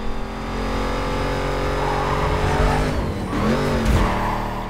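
A car drifting in the Need for Speed Carbon racing game, with a steady engine drone, gear shifts and rising tire squeal bending in pitch, heard close and loud without speech.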